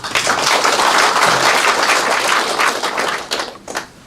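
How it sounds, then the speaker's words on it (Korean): Audience applause at a 2019 county town-hall meeting in Hongseong, Hongdong-myeon: dense, steady clapping from a large crowd in a hall, loud throughout and thinning slightly toward the end. "힘찬 박수 다시 한번 부탁을 드리겠습니다"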